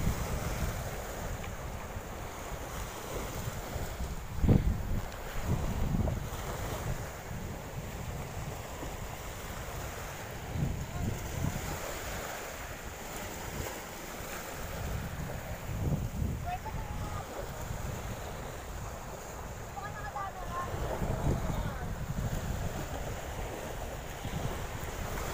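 Strong gusting wind buffets the microphone by the sea at Atimonan, Quezon, with surf and a boat nearby, rising and falling in steady rumbling surges throughout, and a brief louder blast early on.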